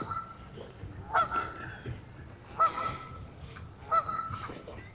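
Waterfowl on a pond honk in three loud, separate bursts spaced a second or so apart, standing out against a quiet outdoor background.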